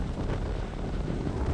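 Gusty wind sweeping across Manchester Piccadilly station, heard as a continuous close rushing and buffeting over the microphone with no talk.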